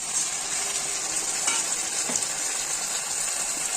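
Ground spice paste fries in a pan for a potato, soybean and pointed gourd curry, giving a steady loud sizzle with a few soft stirring scrapes.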